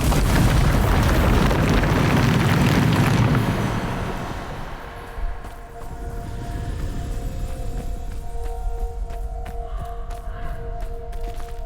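A Bombarda explosion spell blast in Hogwarts Legacy, a huge roaring boom that rumbles for several seconds, then fades into a lower ringing drone and scattered debris-like crackles.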